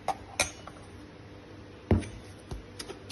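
A spoon scrapes and taps against a bowl while a strawberry-flavored topping mixture is stirred with warm water, sparse soft clinks separated by quiet pauses.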